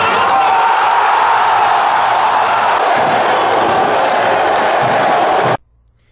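CRB football supporters in a stadium crowd roar in a loud, steady wash of cheering that holds for over five seconds and then cuts off abruptly.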